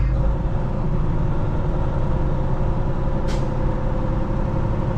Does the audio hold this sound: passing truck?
yes